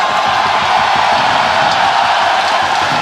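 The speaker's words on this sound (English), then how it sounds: "The crowd love it." Basketball arena crowd in a Kuala Lumpur Dragons versus Singapore Slingers ASEAN league game roars and cheers in a loud, continuous wash of voices that never lets up.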